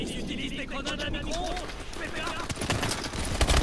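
Dense rapid gunfire crackles on all sides in the Call of Duty: Advanced Warfare video game, with continuous overlapping shots and bursts, loud and busy, while a voice talks over it.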